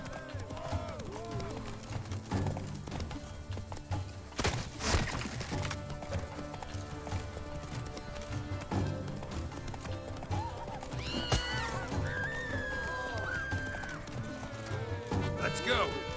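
Roach, a horse in The Witcher 3: Blood and Wine, gallops with a steady, rhythmic clip-clop of hooves and a neigh or whinny, set against game music and ambience.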